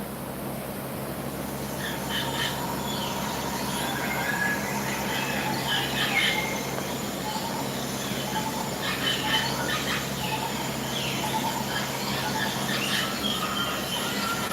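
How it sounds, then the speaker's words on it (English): Bird calls play from a video on a screen painted with new screen paint, scattered chirps and squeaks heard faint and far off over a steady hum filling the room. "Let's get some birds in there."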